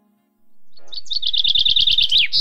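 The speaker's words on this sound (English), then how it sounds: "Now I will look for a bird sound to add to this soundscape." A bird's song for a jungle soundscape: a short rising whistle, then a quick run of bright repeated chirps that ends in a sharp final note, close and loud with nothing behind it.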